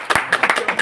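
Several people clap hands at a reunion of old friends after 23 years: about seven close, uneven claps in quick succession.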